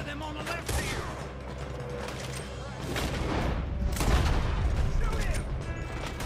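A chaotic Red Dead Redemption 2 gunfight, with dense overlapping gunshots and booms in a steady clatter and shouting voices mixed in throughout.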